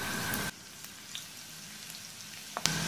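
Chopped garlic fries in a couple of spoonfuls of oil saved from frying noodles. It makes a soft, steady sizzle that is louder for the first half second, then settles into a quieter crackle with a few small pops near the end.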